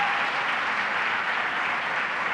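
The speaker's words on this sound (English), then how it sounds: "Let's give a round of applause to Helen." Applause from an audience at a governor's child care announcement, a steady dense wash of clapping at moderate level that holds evenly through the whole clip with no talk over it.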